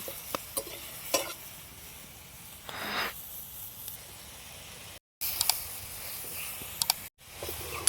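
Chicken is stirred and sautéed in a pan, giving a soft, steady sizzle broken by occasional light scraping strokes of the spoon, fairly quiet and close.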